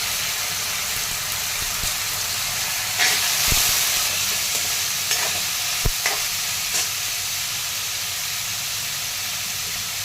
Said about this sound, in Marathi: जिरे मोहरी छान तळतळलं तर त्यामध्ये लसूण टाकून घेत आहे कडीपत्ता टाकून घेतला आहे भोपळ्याच्या पुरी टाकून घेते